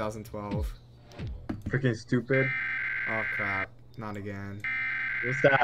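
Alarm buzzing in a Roblox game, steady electronic tones that come in spurts between bursts of excited talk from a player.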